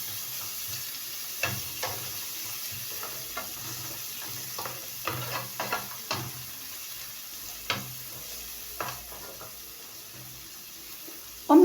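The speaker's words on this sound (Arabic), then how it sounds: "هنحط بقى ايه البقدونس معاهم اهي. نقلبهم شويه كده مع البصله." Parsley and onions are stirred in a frying pan, with a soft sizzle under scattered scraping taps of a utensil against the pan, fairly quiet and close.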